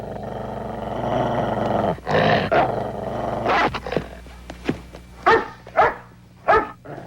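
Guard dogs snarl and bark up close in a 1980s crime drama: a rumbling growl builds first, then a series of sharp, loud barks and snaps bursts out in quick irregular succession.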